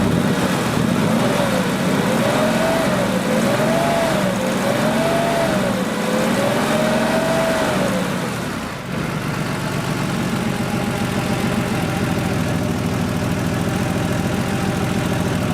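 Engine of a Porsche 3.2 Carrera project car running steadily, with the pitch rising and wavering over the first eight seconds as the throttle is blipped, then settling back to a steady idle. The sound is continuous and close, with no talking.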